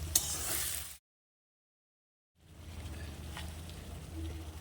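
Kashmiri chili powder, tomato and whole garlic cloves fry in a pan, a soft sizzling crackle heard close for a second, then a silent break before the quiet frying resumes.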